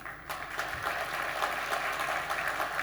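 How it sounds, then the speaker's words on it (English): Steady audience applause at a pitch event, dense clapping from a crowd welcoming presenters, sustained and fairly loud throughout with no talk over it. "Please join me in welcoming them and giving them a round of applause."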